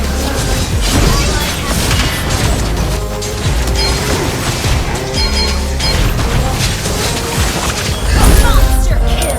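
Turret destruction in the video game Mobile Legends, with loud crashing booms and mechanical impacts over dense game music and effects, steady throughout with a burst near the end.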